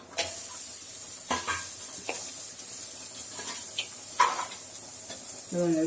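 Ginger, garlic and grated coconut sautéing in a pan for a mutton kuzhambu, a steady background sizzle broken by a few sharp stirring scrapes and clinks of a spatula, close and moderately loud.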